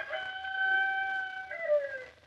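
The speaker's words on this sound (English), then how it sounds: "Where there's a rooster, there's people." A rooster crows once in a long, sustained, fairly loud cock-a-doodle-doo that falls in pitch at the end. It is a sound effect in an old radio drama and stands alone without speech.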